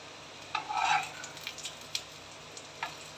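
Chana dal beef shami kababs sizzling in oil on a tawa, a soft steady fry with a few brief scraping stirs, close and quiet.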